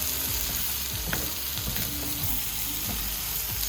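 Pork and onions fry in a hot pan, a constant close sizzle broken by a few scraping knocks as the pieces are turned over.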